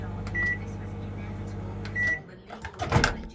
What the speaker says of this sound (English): Microwave above, which is just standard. Okay, so you've got quick start,